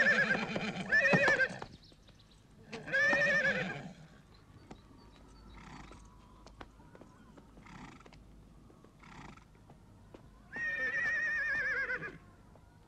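A horse that balks at a jump whinnies loudly several times, with shrill neighs separated by quieter stretches where hooves clop and shuffle close by.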